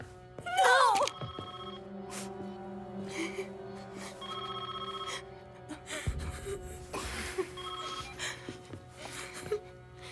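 Telephone ringing in a tense hostage scene from a French thriller, repeated electronic rings in bursts amid gasps and whimpering voices, with people speaking and tension-filled background sounds throughout.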